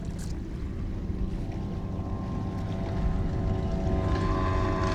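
A sailboat gathers speed through the water after coming out of a heave-to, with a steady low rush of water and wind that grows slightly louder toward the end and no talk.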